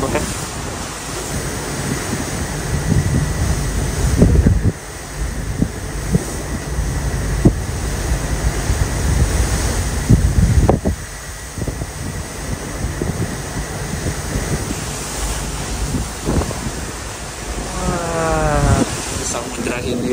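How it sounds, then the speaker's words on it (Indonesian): Big Indian Ocean waves heard from aboard the passenger ship KM Lawit between Jakarta and Nias surge and crash in loud, rolling bursts under heavy wind buffeting, with a voice briefly audible near the end. "Serem kan ombaknya."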